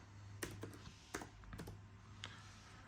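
A handful of sharp, close key presses on a computer keyboard while opening the registry on a Windows PC that will not start, spaced irregularly over a faint steady hum, no talk.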